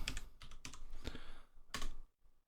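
Keys clatter on a computer keyboard as a search is typed, a quick run of close, quiet clicks with a short pause near the end before a final tap.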